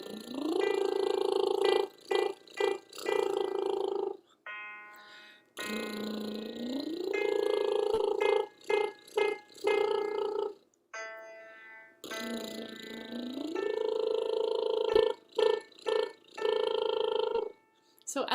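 A singer performs lip-trill (horse lips) vocal warm-up slides, with three sustained buzzing glides that rise in pitch, each followed by short choppy bursts, separated by brief pauses.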